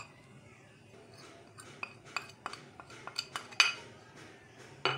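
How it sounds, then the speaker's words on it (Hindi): Raw goat meat being mixed with spices, chaat masala and food colouring in a bowl, heard as a series of light clinks and scrapes of a utensil against the dish that grow busier midway, quiet and close, with no voices. "अब इसको अच्छी तरह हम मिक्स करेंगे"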